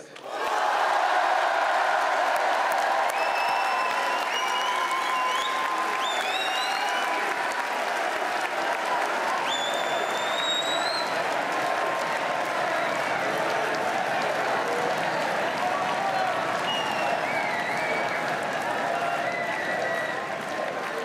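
Sustained crowd applause fills an indoor political rally at the Palais des Sports in Paris, loud and steady for about twenty seconds, with cheers and shouts rising over the clapping.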